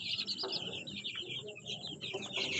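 Young Rhode Island chickens, about three weeks old, peep and cluck continuously in quick, overlapping high chirps, close and fairly loud, with no talking.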